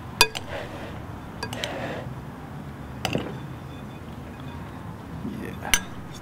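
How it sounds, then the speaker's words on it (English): A big spoon scraping and clinking against a pan while stirring vegetables and sausage, several sharp metallic knocks spaced apart over a quiet room background. "Then we're gonna get us a big spoon here and just give this a mixture here"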